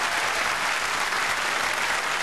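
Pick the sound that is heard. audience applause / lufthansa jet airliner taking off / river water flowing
audience applause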